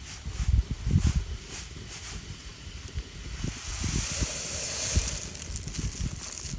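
Horse gram dal set to boil in a pot over a village cooking fire, giving a steady hiss and soft sizzle that swells louder in the second half, with low crackling thumps throughout.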